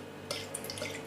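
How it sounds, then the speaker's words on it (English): Bottle-conditioned Nøgne Ø Two Captains double IPA beer is poured briskly into a glass, a brief quiet splashing and fizzing burst of liquid after a moment of near silence. "let's give this a rigorous pour"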